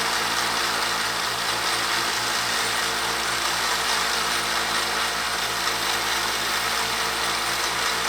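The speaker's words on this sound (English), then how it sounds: "But we're going to use this belt sander here" A running belt sander bevels and rounds the edges of a Kydex broadhead sheath, giving a steady, even drone of motor hum and abrasive hiss that stays constant throughout, heard close with no talking.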